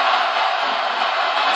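Steady, dense crowd jeering from a wrestling arena audience in WWE 2K16, a broad continuous roar of booing voices held evenly for the whole stretch with no gaps.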